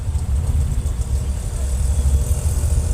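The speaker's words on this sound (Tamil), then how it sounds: "டிராஃபிக்காக இருக்குது கொஞ்சம்" Car traffic in the T. Nagar area of Chennai gives a steady low engine hum and idling rumble, close and continuous, with no clear individual horns or voices.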